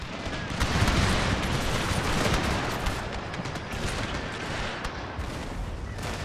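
Musket gunners firing volleys in a Total War battle set in the Thirty Years' War, a dense continuous crackle of gunfire under a loud wash of battle noise that never lets up.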